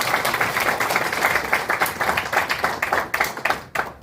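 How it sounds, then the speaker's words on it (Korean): A room full of people at a church worship gathering applauding a choir, dense steady clapping that thins out toward the end, with no talking over it. "감사의 박수를 드립니다"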